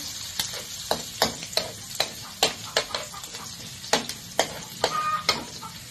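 Meat sautéing in a pan for dry pancit, with a steady sizzle broken by a series of sharp scraping stirs at a fairly even rhythm, close by and with no talking.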